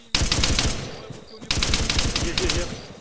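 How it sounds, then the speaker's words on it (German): Sustained automatic gunfire in the military shooter ArmA 3, fast rattling bursts close and loud with a brief lull in the middle, then resuming heavily. "Achtung! Beschuss von rechts!"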